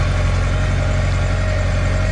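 A small Lovol tractor engine idles steadily and loudly, a constant low rumble with a faint mechanical hum and no change in pace throughout.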